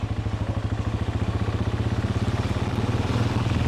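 A Motorstar Cafe 400 motorcycle engine throbs with a fast, steady pulsing rumble, loud and close, as the bike rides along after a tune-up.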